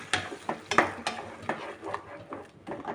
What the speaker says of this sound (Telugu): టమోటాలని పేస్ట్ చేసి పెట్టుకున్నాము మిక్సీకి వేసి అది కూడా వేయించుదాం